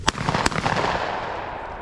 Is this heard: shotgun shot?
yes